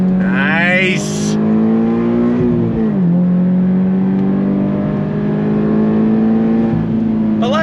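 A sports car, Toyota GR86 or 2023 Hyundai Elantra N, accelerating hard on a track, the engine tone rising through the revs, dropping briefly at a shift, then holding a loud steady drone heard from inside the car.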